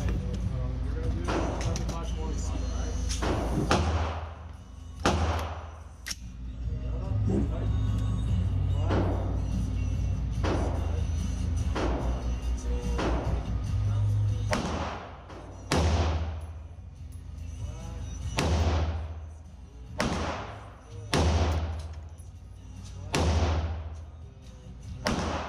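Rifle shots fired while zeroing at a 25-yard range, about a dozen sharp loud reports at uneven intervals, several in quick pairs, each cracking over low background rumble.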